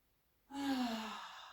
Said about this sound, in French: Et on reste ici, on respire.